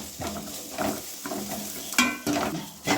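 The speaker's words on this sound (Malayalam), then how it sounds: "മസാലയുടെ അല്ലെങ്കിൽ പച്ചമണം മാറണം വരെ ഇങ്ങനെ ഇളക്കി" Masala for a homestyle chicken curry is stirred and roasted in a pan, giving rhythmic scraping strokes of a spoon against the pan over a soft sizzle, close and moderately loud, with no talking.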